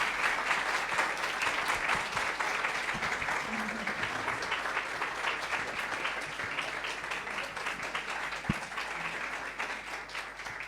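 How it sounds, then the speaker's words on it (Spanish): Sustained audience applause closing a talk at a Bolivian film festival event, steady dense clapping filling the room for the whole stretch with a faint voice or two underneath. "Quiro, Gori, un aplauso."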